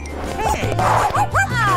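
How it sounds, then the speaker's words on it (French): Small dog giving short yips and whimpering barks close by, a few bursts over a low background hum. "Oh mon joli chien."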